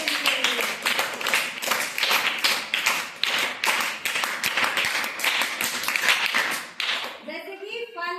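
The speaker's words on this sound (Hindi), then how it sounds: "ताली बजा दो बहन के लिए।" A class in a Hindi lesson on word suffixes claps for a student, steady overlapping applause running for several seconds before fading, with a teacher's voice briefly heard at the end.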